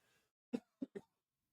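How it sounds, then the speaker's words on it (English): Three short coughs close up, the first one slightly stronger, followed by quiet. "Sorry, I got a cough."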